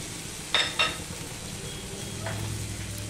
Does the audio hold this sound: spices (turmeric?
yes